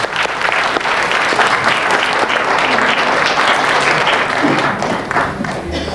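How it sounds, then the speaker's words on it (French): Studio audience at a French television numbers-and-letters game show in 1986 applauding a contestant, a loud sustained burst of many hands clapping, close and continuous with slight swells, a few voices faintly mixed in. "On applaudit ce monsieur."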